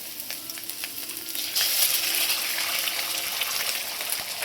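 An egg cracks into a hot pan beside chopped capsicum and fries, giving a steady hissing sizzle that swells and grows louder midway, heard close with no talking.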